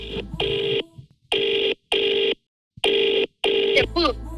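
A telephone call rings back on a TV dance show: four steady, loud electronic ring bursts separated by short even pauses, with a voice breaking in briefly right at the end.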